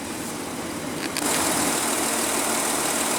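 A 2014 Volkswagen Touareg's 3.0 L diesel V6 runs at a steady idle, a loud, even rumble that steps up slightly partway through as the hood opens, heard close with no talking.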